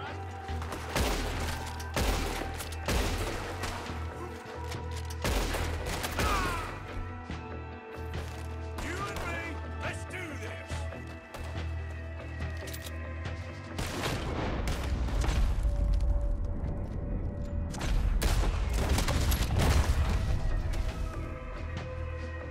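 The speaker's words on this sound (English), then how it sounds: "We're getting shot at." Gunfire in the Western video game Red Dead Redemption 2, a chaotic fusillade of cracks and booms over rumbling game sound that grows heavier toward the end.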